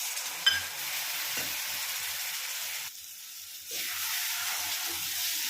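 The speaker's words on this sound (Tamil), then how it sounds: "இப்போ புளி தண்ணி சேர்த்துருவோங்க." Tamarind water poured into okra kara kuzhambu and stirred, a soft steady sizzle and bubbling hiss from the pan with a brief dip midway, close and quiet, no talking.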